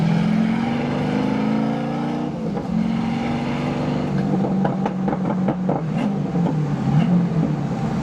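A BMW E46 with a swapped LS V8 pulls hard through the gears, its loud engine note climbing in pitch, dropping at each shift, then rising again.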